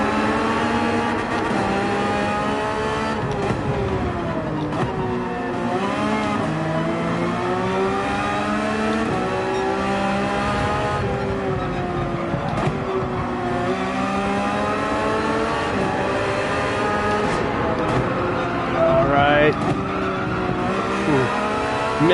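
Porsche 911 race car in Gran Turismo 7 drifting at high speed around Laguna Seca, its engine loud and constant with rising and falling revs through gear changes and faint tire squeal.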